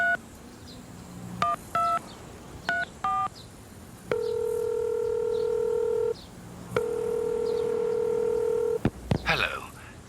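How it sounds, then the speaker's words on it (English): Telephone keypad tones and ringback beeps from the video game Tender Loving Care: short stacked DTMF bursts in quick pairs, then two long steady tones separated by a gap, ending in brief clicks and a rustle. "phone call."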